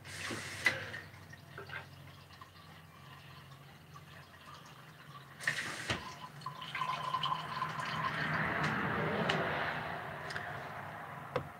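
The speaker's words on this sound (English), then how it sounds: "I'm going to refill my water." Water running and dripping into a bottle being refilled indoors, with a few clunks and drips early on, then a steadier fill that grows louder and fuller toward the end, no talking.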